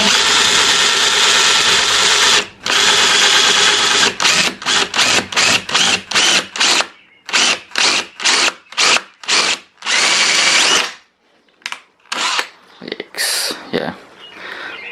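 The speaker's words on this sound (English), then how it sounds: "Need to use a 3/8 drill and start drilling." A power drill with a 3/8 bit runs loud and close on a cabinet front, first in long continuous stretches, then in a series of short repeated bursts with brief pauses between them.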